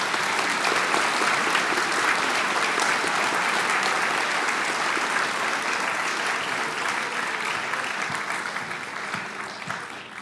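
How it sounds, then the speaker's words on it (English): An audience at a school academic honor night applauds new honor society members, a dense, steady round of clapping filling the room that slowly tapers toward the end. "let's give a round of applause for our new members."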